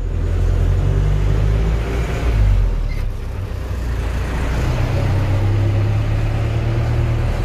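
A broken-down truck's engine rumbles steadily and loudly at close range, a deep continuous drone with a slight swell partway through as the driver works the clutch.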